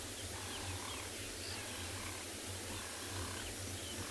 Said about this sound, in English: Yeah, the male's hissing now, busy hissing sound.